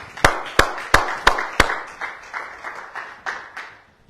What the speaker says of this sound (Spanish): Aplaudo al Rey.